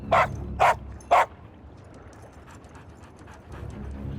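A dog in a TV drama gives three sharp, evenly spaced barks close by, followed by quieter shuffling and faint movement.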